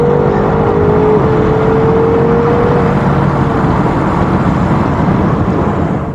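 A BMW M850i xDrive in Sport Plus mode roars loud and close, its engine note climbing briefly and then holding as a strong, continuous drone.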